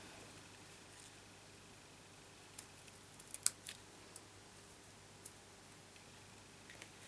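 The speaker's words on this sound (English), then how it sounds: "So just trim that bit." Scissors trim card for a handmade pop-up card, giving a few faint, isolated snips and small clicks in an otherwise quiet room.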